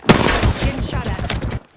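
Gunfire in a squad-based shooter video game, a dense, loud burst of rapid shots rattling close by for under two seconds before cutting off abruptly.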